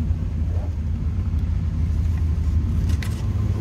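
A 1981 Chevrolet Camaro Z28's 5.7 liter V8 idles smoothly and steadily, a close, continuous low rumble with no revving.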